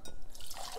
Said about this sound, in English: the jar full of water to put in our pot